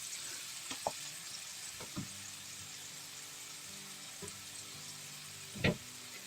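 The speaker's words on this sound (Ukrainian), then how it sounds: "Хай смажиться." Food sizzles quietly and steadily in a pan, with a few clinks and scrapes of a utensil stirring now and then.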